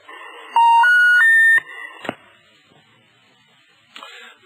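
A telephone left off the hook sounds a warning tone: three rising electronic steps in quick succession, loud and piercing, then a click and faint handling noises before a short burst near the end.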